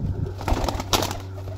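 A pair of Teddy pigeons coo softly at close range, giving a few low, throaty burbles over a faint background hum.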